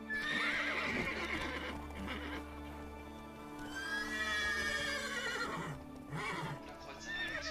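Horses in The Witcher 3 video game whinny loudly and repeatedly, their neighs rising and falling over steady clip-clopping hooves, close and prominent against a faint music background.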